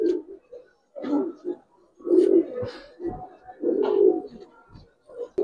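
Giribaz and coloured pigeons cooing and fluttering close by as they are handled and let go, soft repeated bursts of low throaty coos in irregular clusters with brief quiet gaps between.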